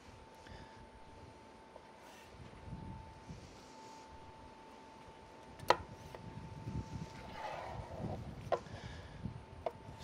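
A knife trims a rack of pork ribs for peach habanero ribs, making a few faint, sharp taps and cuts against the board over quiet, steady background noise.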